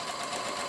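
Sewing machine backstitching while piecing a quilt, a brief, even mechanical whir heard close and alone.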